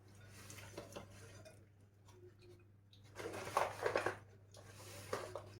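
Butter and walnuts being mixed in a bowl for cup kadayıf, soft scraping and clinking stirs, faint at first and louder in bursts later, with a low steady hum underneath.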